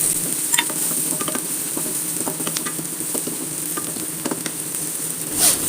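Onions and crushed chili frying in oil in a pan, a bright continuous sizzle with crackling pops and stirring scrapes throughout, fairly close and loud, no voices.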